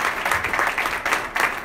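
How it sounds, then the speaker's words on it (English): Audience applause for a speaker at a Catholic Rise Up 2017 conference, a short burst of many hands clapping in irregular waves, fairly loud and close. "Please give a round of applause to Mr. Hudson"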